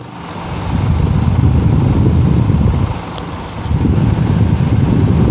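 An air cooler blows steady rushing wind into the microphone, buffeting it with a loud broadband roar and low rumble that dips briefly and swells again.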